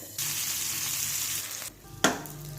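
Fish and garlic fry in hot oil with a loud, close, continuous sizzle that drops away briefly, then flares into a sharp burst of fresh spitting before settling again.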